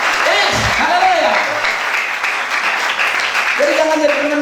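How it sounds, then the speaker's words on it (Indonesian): Congregation at a Christmas Sunday church service clapping steadily throughout, with voices and sung or called-out tones rising over the applause at the start and end. "Tepuk tangan bagi Tuhan"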